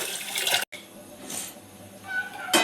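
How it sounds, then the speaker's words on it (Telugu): Rice being washed in water for biryani, swishing and sloshing in a bowl or under a running tap, close, with a brief silent break and a louder splash at the end. "మొదటగా బిర్యానీ కోసం మనం బియ్యం కడుక్కొని పక్కకు పెట్టుకోవాలి"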